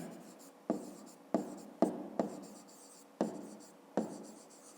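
A pen or chalk scratching out numbers during a fifth-grade math lesson, six or seven quiet strokes arriving in short uneven bursts, close and alone.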